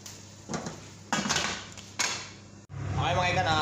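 A pot of tilapia adobo gets covered, with metallic lid clanks and knocks against the rim, then a steady simmering bubble takes over near the end. Background noise is present, with no clear speech.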